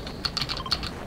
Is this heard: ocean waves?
no